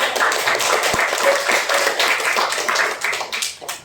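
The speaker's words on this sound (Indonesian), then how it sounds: "Betul, beri tepuk tangan dulu." A classroom of pupils clap their hands together, a loud, fairly rhythmic burst of many close claps that fades slightly at the end.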